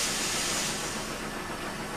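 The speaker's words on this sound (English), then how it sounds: "He let out a great whoosh of steam" Toby the steam engine in Trainz vents a long, steady hiss of steam, loud and close, a broad even whoosh that runs unbroken for about two seconds with no talking over it.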